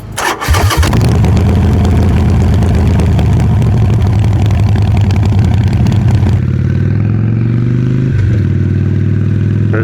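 A Harley Sportster motorcycle engine catches after a starter burst, then settles into a loud, close, lumpy idle with a couple of brief revs, and no talking.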